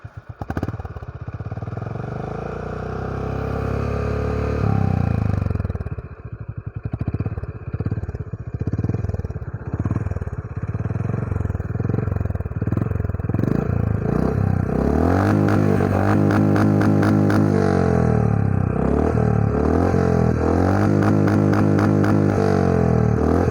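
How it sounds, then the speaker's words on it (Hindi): A Honda CB350 Deluxe Pro motorcycle exhaust thumps at a loping idle with clattering mechanical noise. Then comes a burst of throttle and another steady, heavier idle, loud and close with no talking. "एग्जॉस्ट की आवाज़ भी सुनाता हूँ।"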